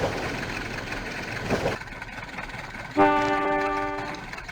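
A model train rumbles and clatters as it runs toward a station platform, then a loud sustained horn blast sounds near the end.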